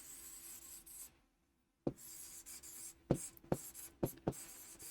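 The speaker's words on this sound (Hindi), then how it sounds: "इनको हम लोग सबसे पहले तो इरेज करते हैं और फिर से लिखते हैं" Handwritten words are rubbed out and written again on paper: a steady scratchy rubbing, a short pause, then quick sharp pen strokes, close and fairly quiet.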